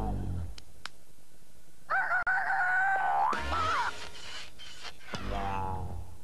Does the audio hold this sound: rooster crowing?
yes